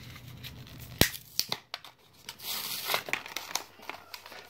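A blade bait fishing lure, a 1/4 ounce silver prism vibra bait, is unpacked from its non-resealable package: close, irregular crinkling and tearing of plastic with a sharp snap near the start, and no speech.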